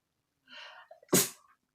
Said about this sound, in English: Sorry, I have a sneeze.